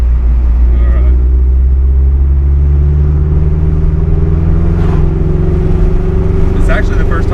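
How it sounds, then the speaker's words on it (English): A Subaru BRZ / Scion FR-S fitted with a new exhaust, driving on the road: a steady, loud, close engine drone holds throughout without pause. "It's actually the first time y'all can hear the new exhaust, too."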